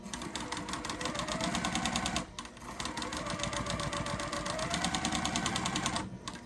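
A sewing machine stitches a quilt block for a sunflower pattern at a scant eighth-inch seam, running steadily and close with a rapid mechanical whir and rattle, briefly pausing near the middle and again toward the end.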